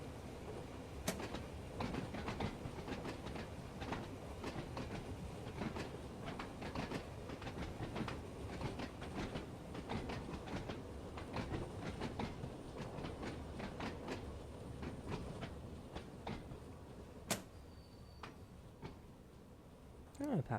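Train Sim World 2 train at night on the Isle of Wight line, rolling steadily with a rhythmic clickety-clack of wheels and faint rattling, slowing under braking with a few sharp clicks and a closing hiss at the end.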